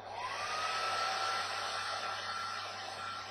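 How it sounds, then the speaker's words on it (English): A hair dryer on its warm setting heats a vinyl decal on a compound curve, blowing with a steady, close, even whir and a faint high whine, with no talking. "So what I'll do next is go ahead and hit this with the hair dryer again"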